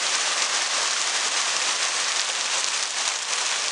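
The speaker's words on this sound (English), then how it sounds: "it's pouring down rain, thunderstorms" Heavy rain pours steadily during a thunderstorm in the San Bernardino Mountains, a dense, loud, unbroken hiss that fills the whole stretch with no voices.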